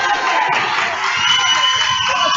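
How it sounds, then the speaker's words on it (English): A home crowd cheers and shouts at a high school basketball game between the JPII Knights and MBA Big Red, a dense, continuous roar of voices and whoops throughout. "The Knights crowd's showing some noise, some life, some action"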